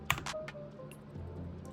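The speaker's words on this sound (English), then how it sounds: "this is me typing" Keys clatter on a Keychron K12 wireless keyboard in quick, uneven clicks, close and fairly quiet, alone with no voices.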